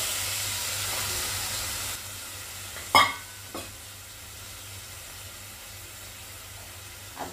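Elephant foot yam sautéing in a pan for a bay-leaf-wrapped Kerala lunch, giving a steady low sizzle with two sharp stir-and-scrape knocks of a spoon partway through, then quieter frying alone.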